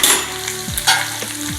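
Drumsticks and potatoes cooking in a pan, a loud continuous close sizzle with a stirring scrape partway through and a faint tonal hum running underneath.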